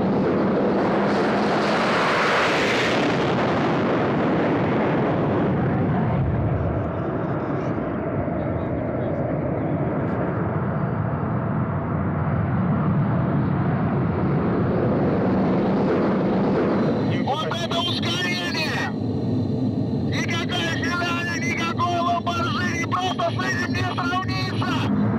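A Yak-130 jet engine roars steadily during takeoff, rising in pitch and intensity as the aircraft accelerates along the runway to about 240 km/h, with a sharp surge of noise near the end.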